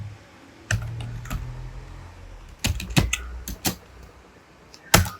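Terminal commands typed on a computer keyboard: close, crisp key clicks in irregular bursts and single taps, with short pauses between strokes and no talking.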